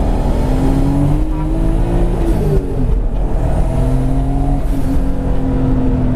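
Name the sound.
project car accelerating hard, spinning tires in first gear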